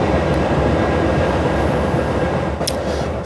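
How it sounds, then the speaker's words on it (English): A train passes close by in Illinois, a loud continuous rumbling roar of rail cars with a brief high squeal near the end, alone with no talk. "That's the train going by."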